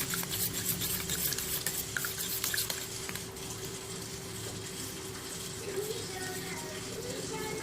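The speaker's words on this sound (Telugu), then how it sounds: "ఉండలు లేకుండా కలుపుకుందాం బాగా" A spoon swirls custard powder into milk for a semiya falooda custard drink, making a steady close wet swishing and scraping that runs continuously over a low background hum, with no clear pauses.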